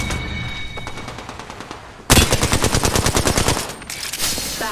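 Rapid automatic gunfire in a battle royale video game, a fast burst of loud, closely spaced shots that breaks in suddenly after softer distant firing and keeps rattling to the end.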